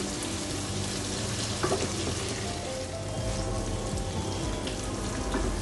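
Food fries in oil in a pan for a Bangladeshi lunch platter, a steady dense sizzle filling the whole stretch with a few faint clicks of utensils, close and continuous with no talking.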